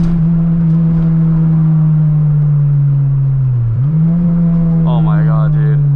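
A Honda engine holds a strong, steady drone as VTEC engages while driving in the rain. The tone dips briefly, then climbs back to its loud, sustained pitch.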